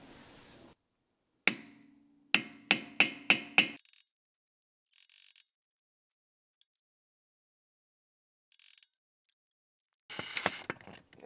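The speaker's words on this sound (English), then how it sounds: "I'm just gonna hammer it in to kind of loosen it up" Sharp metallic hammer strikes on a screwdriver lodged in a stuck brake rotor screw of a Honda Civic ring out, one, then a quick run of five evenly spaced blows, followed by silence and a brief rattling clatter.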